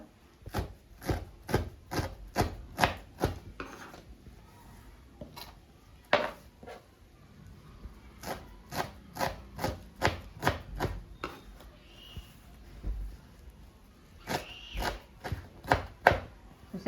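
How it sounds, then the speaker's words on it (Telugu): A knife chops moringa (drumstick) leaves thinly on a board, with quick bursts of sharp, evenly spaced taps, brief pauses in between, close and clear. "ఇప్పుడు ఇది ఆకుని ఉడకబెట్టకుండా నేను కట్ చేస్తానండి సన్నగా"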